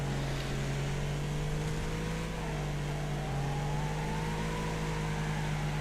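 Race cars in the Wreckfest video game run close behind, their engines a steady, loud, continuous drone with a rising and falling pitch as they jostle for position.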